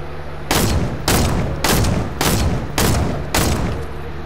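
Six loud, evenly spaced gunshot bursts in Fortnite, each a sharp booming crack with a short tail, firing in a steady rhythm at close range.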